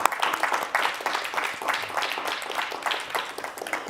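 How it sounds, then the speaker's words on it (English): A crowd's sustained round of applause for a speaker at a conference keynote, a dense steady patter of many hands with faint voices mixed in. "Let's give her another round of applause"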